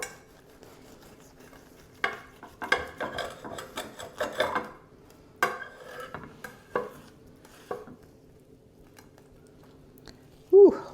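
A knife slices through a homemade baked stromboli with crispy crust, producing scattered crunchy scrapes and clicks against a board, fairly close and intermittent, with a brief voice near the end.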